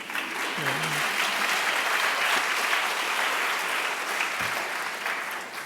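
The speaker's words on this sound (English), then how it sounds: "Didn't really think that line was going to get a lot of applause, but thank you for that." Sustained applause from an audience at a lecture on race, war and refugees, a dense, steady wash of clapping that holds at an even level for the whole stretch.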